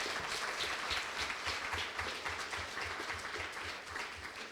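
At a university 3-minute thesis competition final, an audience applauds in a steady, even patter of many hands, faint and somewhat distant throughout.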